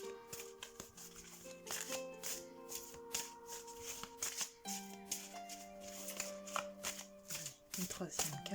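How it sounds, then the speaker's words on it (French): Papery shuffling and the soft slide of an archangel oracle card being drawn from the deck, a run of quick close rustles and light taps over a steady background of soft sustained tones. "je prends une deuxième carte"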